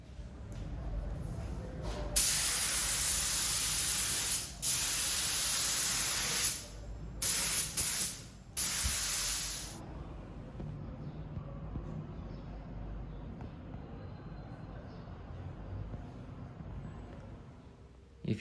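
A paint spray gun hisses in several long bursts over a De Rosa Giro d'Italia bicycle frame. The steady airy spray starts and stops with short gaps and then falls quiet, leaving faint room noise.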